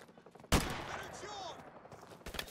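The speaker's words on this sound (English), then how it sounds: "the campaign AK has so much more recoil than the multiplayer one" A burst of AK rifle fire in Call of Duty Modern Warfare Remastered's campaign: one sharp, loud shot cracks out, followed by rapid rattling rounds and echoing tails, with a faint voice beneath.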